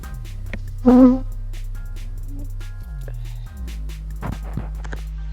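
Honey bees buzz around hive boxes in an apiary during a hive inspection, a close insect drone with one loud pass near the start, over a steady low hum and light handling noises.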